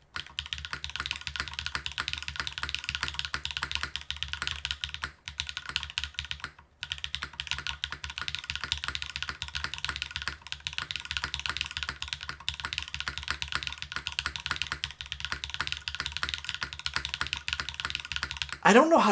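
Steady typing on a Wing60 mechanical keyboard, a continuous run of close, crisp keystrokes with brief pauses and no talking.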